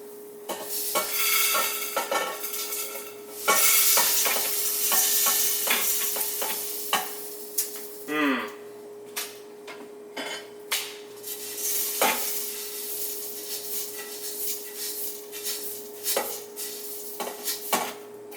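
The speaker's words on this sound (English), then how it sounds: "so now we are going to dump the Rice Krispies" A spoon scrapes and stirs toasted Rice Krispies around a pot, giving irregular close clinks and scraping taps over a faint steady hum, with no talking.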